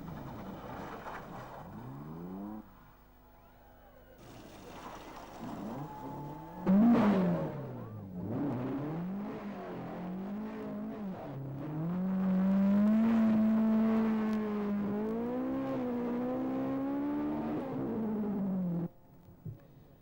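Rally cars, including a Nissan, race down a mountain stage at the 1996 Ohakune Rally, engines revving and shifting through gears as they approach and pass, loud and close with rising and falling pitch.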